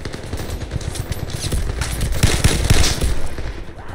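A turret's machine gun fires in the VR shooter Zero Caliber: loud, continuous rapid gunfire that swells and peaks midway, with faint movement sounds underneath and no talking.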